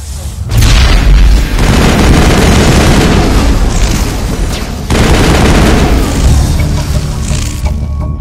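Loud, sustained gunfire in a firefight from the video game Mass Effect: dense rapid shots and booming blasts rolling continuously, with a brief pause partway through before the shooting resumes.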